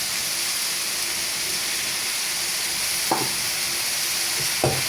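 Ridge gourd frying in a pan sizzles steadily at close range, with two brief clattering bumps as potato pieces are added and stirred in.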